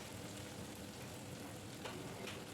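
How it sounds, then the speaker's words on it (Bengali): Chopped tomato frying in oil for a Bengali fish-head murighonta, giving a steady, soft crackling sizzle that runs evenly throughout with no voices. "টমেটোটা এই তেলের ওপর একটু কষিয়ে নেব।"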